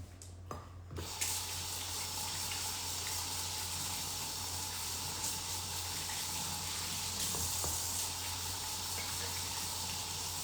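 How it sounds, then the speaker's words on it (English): Tap water runs steadily into a sink during handwashing in a home kitchen, a continuous close hiss that lasts the whole stretch after a brief opening clatter, with no talking. "Let me wash my hands"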